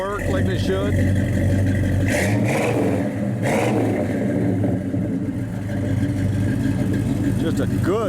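A 1972 Chevrolet Monte Carlo's engine runs loud and close, rising and falling through revs with a steady low rumble, while someone talks over it.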